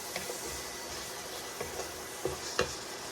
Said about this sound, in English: Mix everything together so that the ground beef is well seasoned